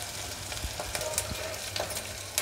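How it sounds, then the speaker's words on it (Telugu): Onions fry in oil with asafoetida for Andhra ulavacharu, a soft, low sizzle broken by occasional light stirring taps, heard faintly and close by. "ఉల్లిపాయ వేగి అంతవరకు వేయించుకోవాలి."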